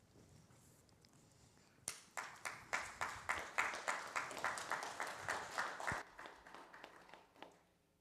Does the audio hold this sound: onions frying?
no